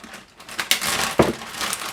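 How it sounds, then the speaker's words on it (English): A plastic bag crinkles and rustles in a kitchen as pieces of cut raw chicken are pulled out of it, close and steady with a couple of sharper crackles. "just going to take the chicken out of the bag."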